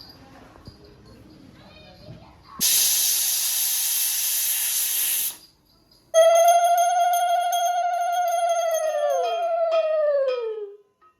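Pressure cooker with cooked dalia, shut off after three whistles, lets out a loud steady hiss of escaping steam, then a second long whistling blast that falls in pitch and fades, with faint household noise before.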